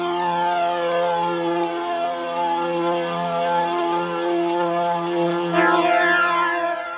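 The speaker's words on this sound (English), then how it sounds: "What this sample actually sounds like when I just press a random key." A tape-recorded synth note played back on a sampler sustains as one rich, buzzy tone for about seven seconds, with slight wobble and a brighter lift near the end.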